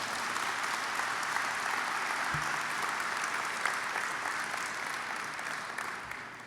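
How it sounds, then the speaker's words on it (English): An auditorium audience at a conference keynote gives sustained applause for a lifetime achievement award winner, a broad, even roar of clapping that holds steady and fades slightly toward the end. "please give him a round of applause"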